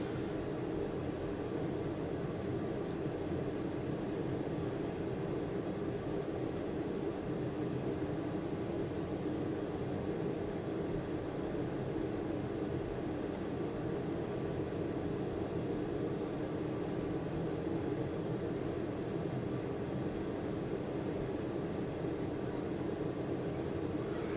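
Aircraft flying in Microsoft Flight Simulator, heading toward a runway at Miley Memorial Field, Wyoming: a steady, continuous engine drone with an even rumbling hum that holds level throughout, without voices.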